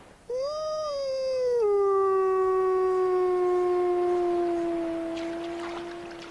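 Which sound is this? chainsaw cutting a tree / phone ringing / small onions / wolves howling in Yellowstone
wolves howling in Yellowstone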